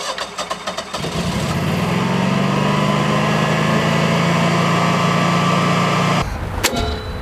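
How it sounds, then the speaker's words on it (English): A generator cranks with a few rapid clattering turns, catches and settles into a loud, steady drone that runs for several seconds before cutting off abruptly, followed by a short clank. "we're going to hear the generator fire up"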